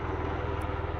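Tiltrotor aircraft coming in to land in helicopter mode, a steady throbbing rotor drone with rhythmic low pulsing, fairly faint and distant, lasting about a second with no talk.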